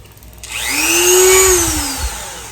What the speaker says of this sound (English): We'll get the Dremel, we'll do some filing.